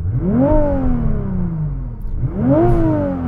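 A Nissan GT-R engine revs twice, each blip climbing sharply in pitch and then winding down slowly with a turbo whir, close and loud with a brief dip between the two pulls.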